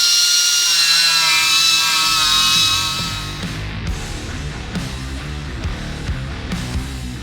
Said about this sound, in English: I'm going to take my 2-inch angle grinder with a medium pad on it and just start getting rid of the paint